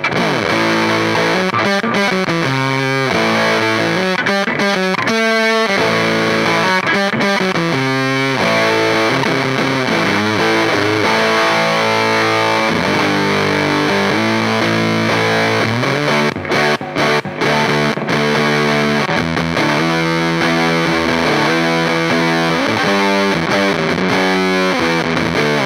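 JHS Bender fuzz pedal on electric guitar with the mode button engaged, giving a mid-range, trebly, gated and spitty fuzz; loud continuous chords and riffs with brief choked gaps, played alone.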